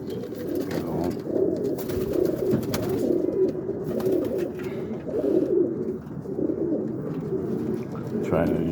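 Pigeons coo continuously in a backyard coop, a steady layered murmur of low throaty calls filling the space, with occasional wing flutters and a voice speaking intermittently beneath the birds.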